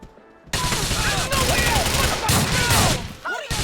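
Loud, dense gunfire bursts in Grand Theft Auto IV, with rapid overlapping shots from multiple weapons after a brief quiet start, a short pause near the end, then firing resuming, with voices mixed underneath.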